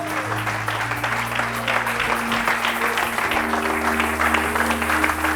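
A church congregation applauding Jesus during a sermon by Pasteur Symphorien Mahoungou, steady loud clapping from many hands throughout, with a low sustained musical tone underneath.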